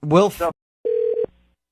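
A telephone call being placed: a short electronic dial tone with a few beeping tones right after a brief stretch of speech, close and clear, ending abruptly.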